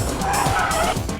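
Car tires squeal in a drift during a braking feint maneuver, a loud, close, continuous screech over engine rumble lasting about a second.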